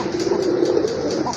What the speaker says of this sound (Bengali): এটা হচ্ছে আপনার ইন্ডিয়ান বোম্বাই কবুতর